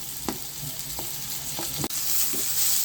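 Chopped capsicum fries in a pan over high flame as filling for chicken cheese bread rolls, giving a close, steady sizzle broken by several distinct spatula scrapes and taps.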